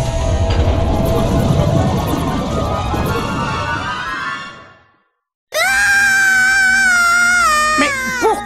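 A character in a French-dubbed Psychonauts video game cutscene screams loudly over a rumbling, noisy scene, then falls silent before a second, high, wavering wail, almost like a crying baby or a cat, holds for about three seconds.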